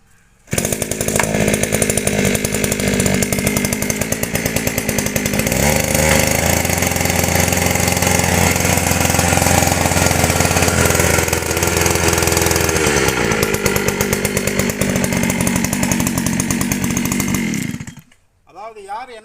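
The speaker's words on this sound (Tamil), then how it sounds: "இது வந்து மினி வீடர்." A small mini power weeder engine starts and runs loud and close for about seventeen seconds, a steady buzzing two-stroke drone with a slight pitch dip near the end before it cuts off abruptly.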